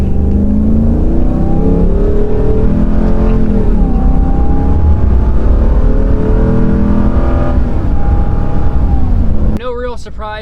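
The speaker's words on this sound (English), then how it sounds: "let's go out for a quick drive on the street in regular city mode" A 2021 RAM 2500 pickup with a 6.4-liter Hemi V8 drives on a city street in stock mode, its engine droning loud and close with rising and falling pitch as it shifts, before easing off near the end.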